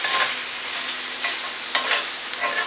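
Shrimp and summer vegetable pasta stirred in a hot pan as butter and wine cook off, giving a steady close sizzle broken by a few scraping stirring strokes, with no talking.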